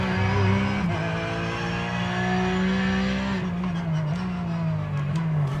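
A Porsche 911 race car in iRacing roars close and loud, engine pitch holding steady then dipping and rising through shifts as it drives along, alone without talk.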